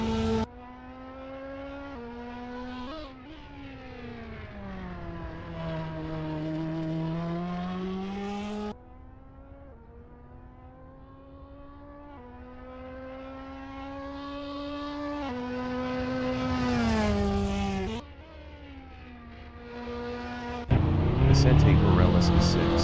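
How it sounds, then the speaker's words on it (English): An Audi GT race car in the Assetto Corsa racing game exits the pits, its engine whining and rising through the gears, with shifts and a swelling roar as it accelerates away, while a voice calls the action over it. "Miguel Audi exiting pits."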